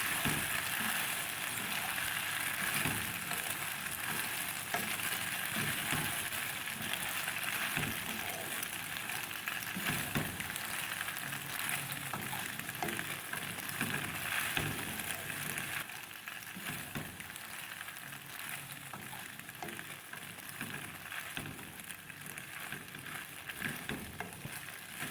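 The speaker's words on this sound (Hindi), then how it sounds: "अब हम इसमें डाल देंगे मैक्रोनी। इसको अच्छी तरह मिक्स कर लेंगे" Macaroni pasta being stirred in a pan with a steady frying sizzle and soft, irregular scraping and stirring movements throughout, close and continuous with no voices.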